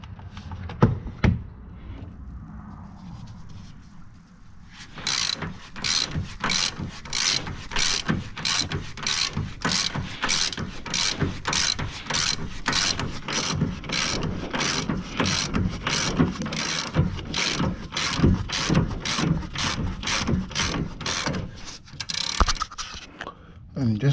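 A ratchet wrench turns a bolt while leveling a 2019 Ram truck. Rapid, evenly spaced metallic clicks run close and loud from a few seconds in, after quieter handling noise and a voice at the start.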